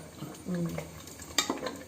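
Pachoru, a thick Kerala sweet rice dish, bubbles and splatters in a pot as a spoon stirs it, with soft scraping and a sharper pop near the end, close and moderately loud.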